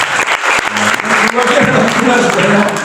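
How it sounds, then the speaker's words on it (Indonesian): A church congregation at a Family in God worship service bursts into loud, dense applause. Many hands clap at once, and voices call out over the clapping throughout. "Coba tepuk tangan dulu family intort yang keras."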